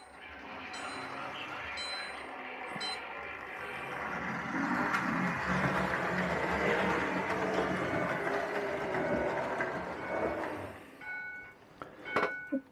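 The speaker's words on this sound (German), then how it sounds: "ich zeige euch jetzt die Lok oben vorbeifahren" A Märklin/Roco model BR 018 locomotive runs along a layout track, a soft, fairly faint rolling rumble and whir that swells in the middle and then fades, followed by a few light clicks.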